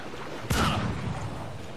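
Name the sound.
gunfire from enemy aimbot players in a video game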